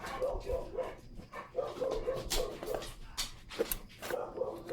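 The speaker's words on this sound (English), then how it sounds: "with the dog barking in the background." A household dog barks repeatedly in the background at moderate distance, steady rhythmic woofs running under quiet speech and handling noises while a tarantula is rehoused.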